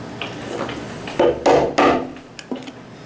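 Japanese chisel chopping a mortise in wood for a chisel box, a handful of sharp struck knocks and crunching cuts spaced irregularly, close and loud over a quiet room.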